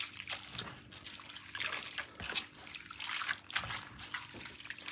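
Sea moss being washed by hand in water, with steady sloshing, trickling and dripping close by throughout, no talking.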